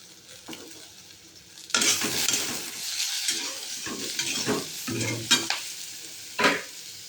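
Potatoes and eggplant frying in oil with turmeric and salt, a steady loud sizzle that starts abruptly a couple of seconds in, with stirring scrapes and spatula knocks against the pan, no talking.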